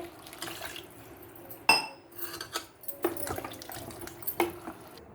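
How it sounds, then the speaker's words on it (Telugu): Water from a glass is poured into a pot of mango and drumstick curry. A short splash comes with clinks of metal pots and utensils. The sound is close and fairly quiet in a kitchen. "ఇప్పుడు అందులో మనం 1 గ్లాస్ ఆఫ్ వాటర్ వేసుకుందామండి."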